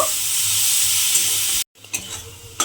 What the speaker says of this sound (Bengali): কোড়ানো আমটা আমি তেলের মধ্যে দিয়ে দিলাম। দিয়ে একটু আমি নেড়ে চেড়ে নেব।